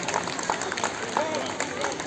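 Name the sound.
applause welcoming a guest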